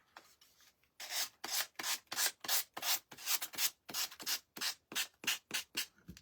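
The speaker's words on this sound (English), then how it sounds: "we're just going to go around with our little sander" A little handheld sander rubs over the edges of a wooden picture frame in quick rhythmic strokes, about a dozen close scratchy passes following a quiet start, with no voice.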